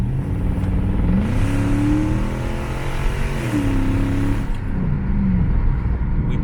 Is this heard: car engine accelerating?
yes